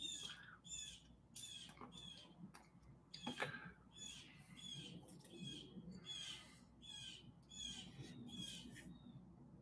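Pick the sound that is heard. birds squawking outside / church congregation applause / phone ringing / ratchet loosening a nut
birds squawking outside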